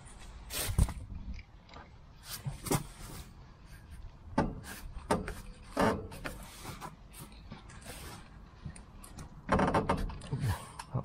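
Ifor Williams GD84 trailer wheel turned backwards by hand until the brake locks: irregular scraping, rubbing and mechanical clunks from the wheel and brake, close and moderately loud, with brief pauses between bursts.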